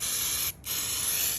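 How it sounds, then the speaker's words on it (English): Spray paint remover hisses from an aerosol can onto a leather and fabric sneaker in two loud, close bursts separated by a brief gap. "You can spray the whole shoe again, okay?"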